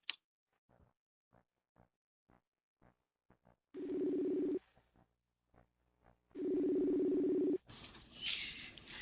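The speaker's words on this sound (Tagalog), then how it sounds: "Ako na lang tawagan, Bia." A phone call being placed: a rapid string of short, soft keypad tones ticks along, then two long, loud ringback tones sound alone, followed by a noisy burst as the line connects.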